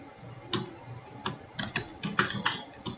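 Typing on a computer keyboard, a handful of close, crisp key clicks in irregular bursts with short gaps between them, heard alone without talking.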